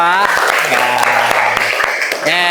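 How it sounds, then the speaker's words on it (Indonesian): A classroom applauding a student group, a short burst of clapping close by, mixed with voices talking over it at the start and the end. "Tepuk tangan dong buat kelompok 2"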